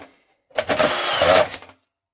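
A Kaltmann K-WZP18V cordless screwdriver with a screw feeder drives a screw into drywall in one burst of about a second of whirring motor, close and loud, starting abruptly and cutting off sharply, with silence before and after.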